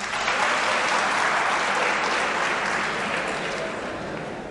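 Sustained crowd applause, thick and even clapping from many hands, holding steady before easing slightly toward the end.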